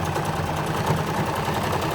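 Sewing machine stitching fabric along a stitch line under the presser foot, a steady rapid mechanical whir with fast rhythmic needle pulses, loud and close throughout.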